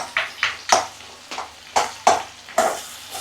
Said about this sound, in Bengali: এখন নেড়ে ছেড়ে নিই জলপাইগুলো একটু ভেঙে দেব